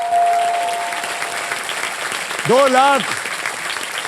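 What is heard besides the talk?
audience applause on a game show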